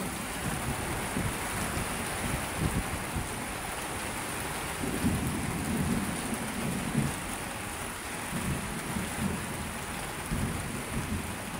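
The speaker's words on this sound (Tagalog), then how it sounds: "Kumukulog, di ba?" Low thunder rumbling in rolling swells beneath steady heavy rain during a storm over Manila Bay, a constant hiss of rainfall with deeper rumbles rising and fading.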